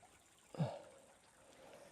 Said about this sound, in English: See, just bubbling through there.